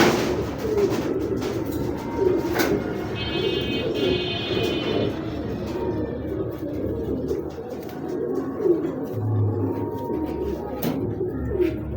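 Racing pigeons, saddle pied birds among them, coo repeatedly in low rolling calls close by, with faint chirps and light rustling from the loft in the background.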